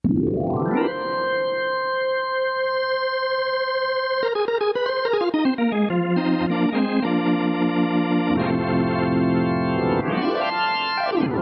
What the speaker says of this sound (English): there's also an incredible virtual tone wheel organ to recreate those vintage rock and jazz organ